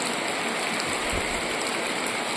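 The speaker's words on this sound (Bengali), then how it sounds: "বাইরে তো বেরোনোই যাচ্ছে না, এতটা বৃষ্টি।" Heavy rain pours steadily outdoors after two days of downpour, a dense, even hiss with no break or voice.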